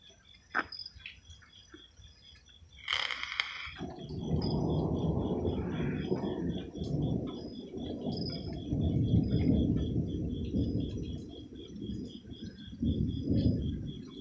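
Thunder rolls through an electrical storm: a sharp crack, then a long, deep rumble for roughly ten seconds, with birds chirping steadily in the background and no talking.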